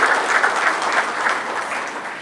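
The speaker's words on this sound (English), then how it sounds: "let's give Michael Strahan a round of applause" An audience at a college football classic luncheon breaks into steady applause, a dense burst of clapping that slowly fades, with no one talking over it.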